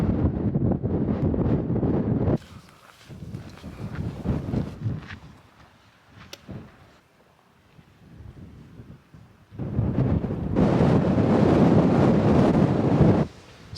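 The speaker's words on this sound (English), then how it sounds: "it's very windy on the tops. Probably a bit windy for the micro muff to cope with" Strong wind on an exposed moorland hilltop in the Peak District buffets the microphone in loud roaring gusts, drops to quieter rustling mid-way, then surges back to heavy rumble at the end.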